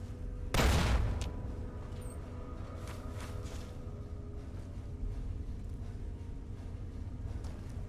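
An explosion goes off in Fallout: Tale of Two Wastelands: one loud, close blast with a deep rumble early on, which fades into a quieter, steady background hum.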